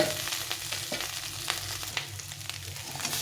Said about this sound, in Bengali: আলুটাকে এভাবে ভেজে নিতে হবে